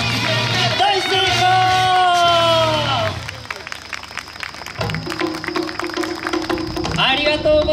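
Audience applause and cheering break out at an outdoor LED performance show celebrating a 100th anniversary in Yoro Park, Japan, a dense wash of clapping and shouts rising loud after the act, then dipping and swelling again, with a voice over it.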